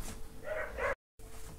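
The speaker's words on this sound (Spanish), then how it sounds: "le estaban ladrando a unas abuelitas que iban pasando, por eso ladraban tanto" Dogs bark at elderly women walking by outside, giving a couple of quick, fairly faint barks at some distance over a steady background hum, with no talking.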